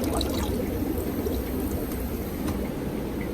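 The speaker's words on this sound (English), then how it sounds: "nice stream of water going in" Water streams steadily out of valves into cichlid fish tanks, a continuous close splashing pour with no talking over it.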